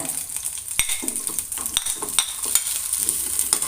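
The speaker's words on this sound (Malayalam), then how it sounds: "ആ വെളിച്ചെണ്ണയ്ക്ക് നമ്മൾ ഒരു സവാള അരിഞ്ഞതിട്ട് കൊടുക്കുന്നുണ്ട്" Sliced onion fries in coconut oil in a pan for a Kerala-style prawn curry, a bright, crackling sizzle up close, broken by several quick spatula scrapes and taps against the pan.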